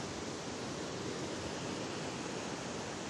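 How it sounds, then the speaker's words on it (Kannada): Whitewater rapids of the Niagara River roar in a dense, continuous rush of churning water, loud and unbroken with no other sounds rising above it. "ಗೊತ್ತಾಗ್ತಾ ಇದೆ ಅಲ್ವಾ ಎಷ್ಟು ಫೋರ್ಸ್ ಇದೆ ನೀರು ಅಂತ"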